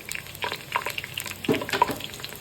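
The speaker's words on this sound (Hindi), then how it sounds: "अब हम इसको ब्राउन होने तक इसी तरह चम्मच चलाएंगे और ब्राउन कर लेंगे" Onions frying in a karahi for karahi gosht, stirred with a spoon until golden brown: a soft, steady sizzle broken by several scraping stirs, close and fairly quiet.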